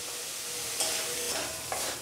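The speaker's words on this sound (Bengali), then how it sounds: "এবারে আমি আবারও ভালো করে মশলাটাকে কষাতে থাকব।" Spice masala sizzles and fries in a pan while a spoon stirs it for a paneer and capsicum dish. There is a soft steady hiss with a few faint scraping strokes, heard close and without any talk.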